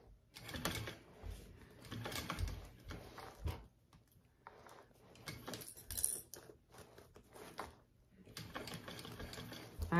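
A sewing machine stitches a small fold-and-zip petite backpack in rapid bursts of mechanical clatter separated by short pauses, up close and fairly quiet, with no talking.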